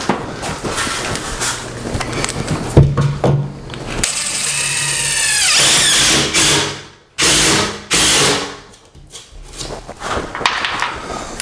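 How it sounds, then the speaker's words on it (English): A Ridgid R4512 palm driver drives screws into cement backer board for a shower remodel, with loud close bursts of whirring and rattling impacts broken by short pauses and handling noise. "I'm using my rigid R4512 palm driver"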